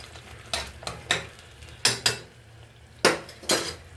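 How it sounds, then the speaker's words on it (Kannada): A spoon scrapes and clanks against a pan as tomato puree is stirred over a high flame, six or seven sharp metallic strokes at irregular intervals over a faint background sizzle, with no talking. "ನಾನು ಟೊಮೆಟೊ ಪ್ಯೂರಿ ಹಾಕ್ಕೊಂಡಿದ್ದೀನಿ. ಜಸ್ಟ್ ಗಿವ್ ಅಸ್ಟ್ ಮಿಕ್ಸ್. ಲೋ ಫ್ಲೇಮಲ್ಲಿತ್ತು, ಸ್ವಲ್ಪ ಹೈ ಫ್ಲೇಮ್ ಮಾಡ್ಕೊಂಡಿದ್ದೀನಿ."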